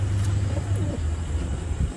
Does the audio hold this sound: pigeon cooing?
yes